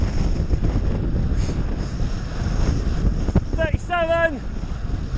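Wind roaring over a cyclist riding fast downhill at night at roughly 33 to 40 miles an hour in the biggest gear: a loud, steady rush buffeting the microphone, with a brief whining tone near the end.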